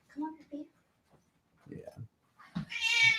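A pet cat meows loudly near the end, a sustained harmonic cry following scattered speech and quieter sounds earlier; people talk in the background.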